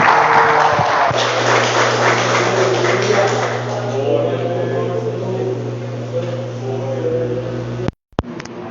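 A church congregation claps together during a service, a dense rattle of hands that is strongest at first and then fades away, with voices talking over it.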